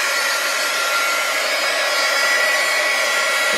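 A hair dryer blows steadily and loudly, close up, drying a freshly worked art journal page, a constant even whoosh with no other sounds.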